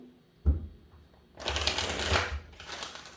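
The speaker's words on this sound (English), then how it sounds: "I'm going to give this 3 shuffles." Tarot cards are shuffled close by: a short snap, then a long, dense riffling rush of cards that fades out near the end, with no voice.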